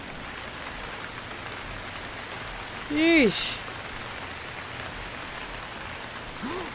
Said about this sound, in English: It rains for way too long.